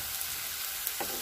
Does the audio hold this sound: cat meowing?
no